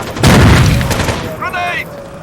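Heavy gunfire in Rainbow Six 3 on Xbox: a loud booming burst of shots, a voice shouting over the firefight, and radio-like chatter following as the firing tails off.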